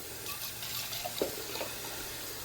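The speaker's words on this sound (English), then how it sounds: "I like to rinse the bean out at least a little bit, get some of that off." Tap water running in a kitchen sink to rinse canned beans: a steady, soft hiss of flowing water, moderately close, with a few faint splashes and no talking.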